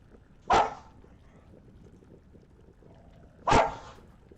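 Puppies bark indoors, two sharp, loud single barks spaced about three seconds apart over a quiet background.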